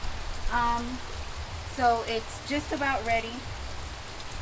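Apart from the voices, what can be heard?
rain falling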